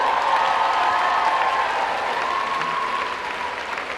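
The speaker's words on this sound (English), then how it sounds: "you deserve a round of applause for that" A graduation audience at a spring college commencement fills the space with a sustained wall of applause, loud and dense, holding steady for several seconds before easing slightly toward the end.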